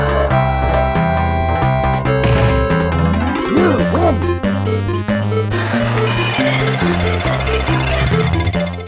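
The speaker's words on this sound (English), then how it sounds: "the music emulation is so bad, the sounds are actually off-key" Off-key Super Street Fighter game music from a Gopher portable Sega Genesis clone, loud, harsh and continuous, with stepped bass notes, clashing melody tones and noisy buzzing throughout.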